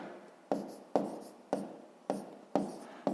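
Pen strokes writing out a sixth-grade maths solution on paper: six short, crisp scratching bursts in a steady rhythm, each fading quickly, close and fairly quiet, with no voices.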